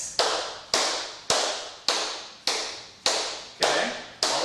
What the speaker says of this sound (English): we're doing shuffle, step, shuffle, step, shuffle, step. We're doing an even rhythm.